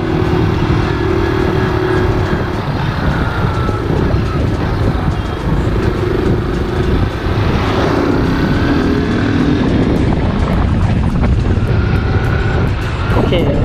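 A Kawasaki KSR motorcycle accelerates hard on a road test, its engine roaring loud and continuous throughout with a steady rising drone.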